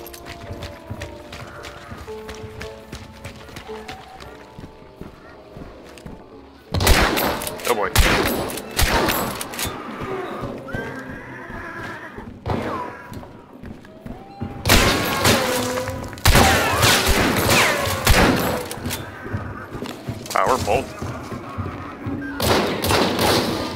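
Gunshots in the video game Hunt: Showdown, heavy booming blasts arriving in clustered bursts between quieter stretches, with dull thuds and mechanical clicks in the gaps.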